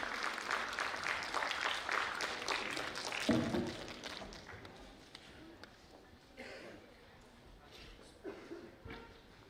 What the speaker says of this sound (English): Please, a big round of applause for Sir Adil Hussain.